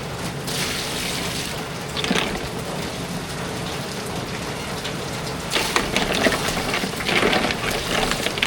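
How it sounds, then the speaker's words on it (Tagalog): Water pours into a cooking pot with a continuous splashing hiss, swelling into louder gushes near the end. "Lagyan natin ng tubig."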